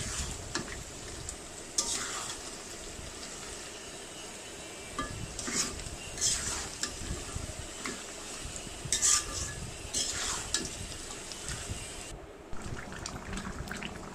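Fish head muri ghonto sizzles in a pan while it is sautéed, with a steady fry hiss broken by repeated scraping stirs of a spoon against the pan, close and without speech.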